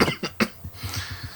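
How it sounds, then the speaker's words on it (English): A person coughs in two or three sharp bursts at the start, close to the microphone, then softer throaty rumbles follow. "before I cough myself into a fit"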